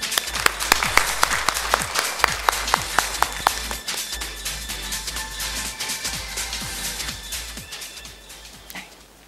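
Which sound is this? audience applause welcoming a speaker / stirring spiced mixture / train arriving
audience applause welcoming a speaker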